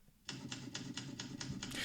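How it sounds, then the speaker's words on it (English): Typewriter keys striking in a fast, even rhythm of about seven crisp clacks, close and clear, closing with a brighter ring or carriage sound at the end. "the typewriter at work."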